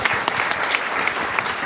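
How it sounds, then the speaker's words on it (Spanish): Steady applause from an audience at a clinical medical conference, dense and continuous clapping throughout with no voices standing out. "un aplauso a nuestros participantes"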